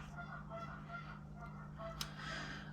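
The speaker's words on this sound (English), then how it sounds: "those geese are just rude" Geese honk repeatedly in the distance, faint nasal calls coming in a loose series over a steady low hum.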